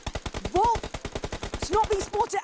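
Rapid automatic gunfire in the mobile battle royale game PUBG Mobile at an esports championship, a continuous fast burst of shots with a commentator's voice over it.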